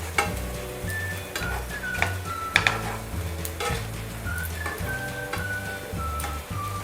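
Poha cutlets frying in a pan with little oil, a steady close sizzle punctuated by scraping and light clinks of a utensil, no talking.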